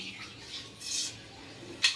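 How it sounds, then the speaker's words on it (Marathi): Mustard seeds crackle in four spoons of hot oil, tempering for a soybean pulao: soft, faint sizzling bursts and a single sharp pop near the end, with no talking. "मोहरी अशी चांगली तडतडली"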